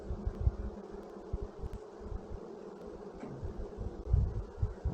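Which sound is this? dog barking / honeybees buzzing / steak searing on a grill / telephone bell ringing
honeybees buzzing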